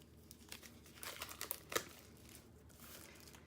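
Crinkly plastic packaging around craft kit items is opened, giving soft, close crackling and rustling with a few sharper crinkles in the middle, fairly faint overall.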